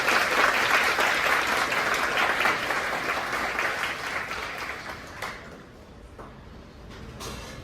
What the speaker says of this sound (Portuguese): Uma salva de palmas para eles, por favor.